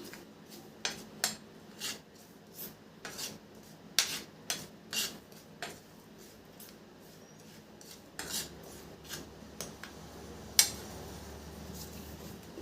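Spoon scraping and clinking against a metal bowl while a paste of ground red lentils and soaked rice is mixed with turmeric, salt, cumin and chopped green chilli, a steady run of close, sharp taps with softer stirring between.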